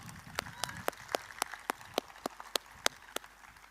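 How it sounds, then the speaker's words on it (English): Sparse, individual claps from a small part of the audience at a university orientation programme, sharp and evenly spaced over a quiet room background, with no full round of applause building. "A big round of applause."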